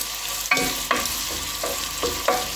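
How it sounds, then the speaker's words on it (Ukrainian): Onions sizzle steadily in a hot pan while a utensil scrapes and stirs every half second or so, with clicks against the pan. "і тушимо до прозорості цибулю."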